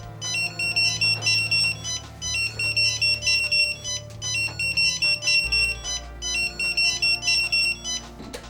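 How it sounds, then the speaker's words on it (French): A firefighter's pager alert beeps in repeated rapid bursts of high electronic tones, four cycles in a steady rhythm, fairly loud and with no talking. "le bip retentit"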